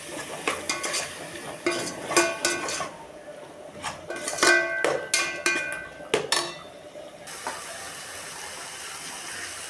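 A spoon scrapes and clanks against a pan while coconut and ginger-garlic paste fry in masala for biryani, a run of irregular metallic strokes over a soft sizzle, then quieter frying alone.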